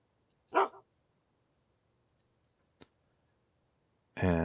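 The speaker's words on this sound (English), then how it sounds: "Big dog." A big dog named Ferryman in the survival game UnReal World gives one loud bark, followed by a faint tick and a second bark a moment later.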